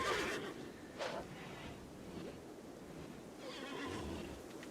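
A horse whinnies in the colony sim RimWorld, a short neigh at the start with a softer call near the one-second mark, followed by steady low ambient noise.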